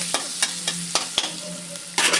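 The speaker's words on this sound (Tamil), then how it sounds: "எல்லாத்துக்குமே பேஸ் வந்து இந்த வெங்காயம் தக்காளி இதெல்லாம் நல்லா வதக்கிறது தான்" Onions and tomatoes sauté in a hot pan, a steady sizzle broken by regular scraping stirs of a spatula, close and with no talking.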